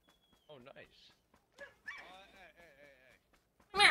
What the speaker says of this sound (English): Do you name your dog Zero?